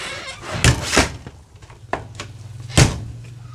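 An RV screen door on an off-road Palomino Pause overlander camper is closed with a few sharp thunks and rattling knocks, close by and loud, with no talking.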